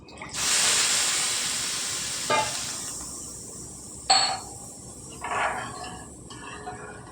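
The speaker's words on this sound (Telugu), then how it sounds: "చూడండి నీళ్ళు మరుగుతున్నాయి" Loud steamy hissing from a pan of water coming to a boil for upma, rising suddenly, then fading, with a few sharp bursts of sizzle along the way.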